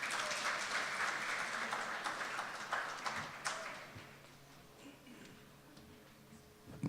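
Audience applause welcoming a speaker at a Seoul maker event, moderately loud at first, then thinning and fading over several seconds into scattered claps and quiet room noise.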